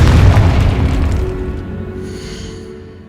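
A loud, booming Confringo spell explosion from the Hogwarts Legacy video game, blasting a bone-lined barricade in an archway, hits hard at once and then rumbles away over about three seconds.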